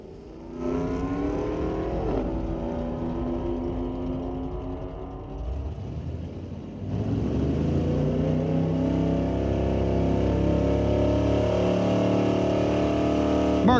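Drag racing cars, including a 346 Chevy F-body and a front-wheel-drive 1987 Chrysler Woody wagon, launch at Mission Raceway Park. Engines hold a loud, rising roar that dips briefly midway, then surges again into sustained full-throttle acceleration.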